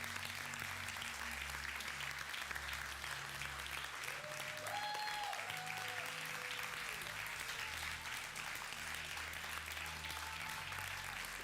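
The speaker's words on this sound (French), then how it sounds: "Vous pouvez applaudir du mieux que vous pouvez" A church congregation claps in sustained, even applause, faint and distant, with a low hum and a brief sung tone rising through the middle.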